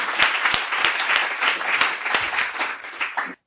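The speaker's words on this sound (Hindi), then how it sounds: "जोरदार तालियां भाई लवलेश।" Strong, dense applause from an audience at a patriotic Hindi poetry recital, many hands clapping together with a few sharper claps standing out, then cutting off abruptly.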